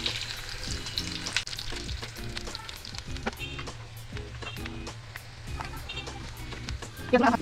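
Whole spices fry in hot oil in a pan: cloves, black pepper, bay leaf and half a piece of mace. A continuous sizzle runs under clinks and scrapes of a spoon, and a voice talks over it.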